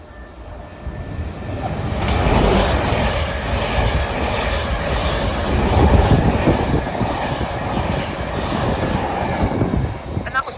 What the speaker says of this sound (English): And passing through now is a South Western Railway service from Weymouth and Poole to London